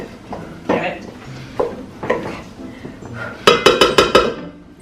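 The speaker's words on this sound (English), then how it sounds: "I'm just gonna mix that all together so the sausage is incorporated here" Vegan apple sage sausage stuffing is mixed together in a pan, with talk early on, then a quick run of sharp utensil clinks and scrapes close by near the end.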